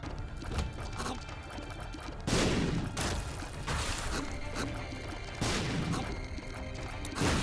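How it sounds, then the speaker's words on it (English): Explosions in The Binding of Isaac: Rebirth, loud broadband booming bursts recurring every couple of seconds over continuous busy game noise, with no talk. "I don't fear these explosions, but I'd rather not get hit by them."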